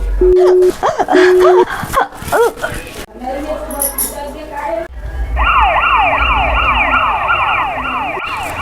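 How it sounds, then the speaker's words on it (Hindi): A police car siren wails, sweeping up and down repeatedly over continuous background noise, after earlier voices and tones. "दादा पुलिस गाड़ी आवत है"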